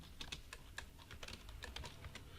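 Steady typing on a computer keyboard while entering SQL commands, a dense run of quick, close key clicks with no voices.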